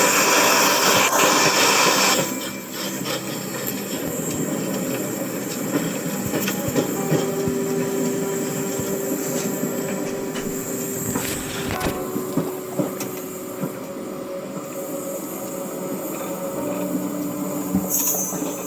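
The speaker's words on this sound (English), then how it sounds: "That's a train." A train passes nearby with a loud, sustained rumble and rattle of wagons. Faint rhythmic clatter runs through the steady roar for a long stretch, with no one speaking.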